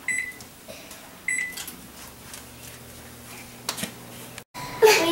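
An oven's control panel gives a few short electronic beeps as it is set to preheat to 350 degrees in a home kitchen, spaced apart over a low hum with light handling clicks.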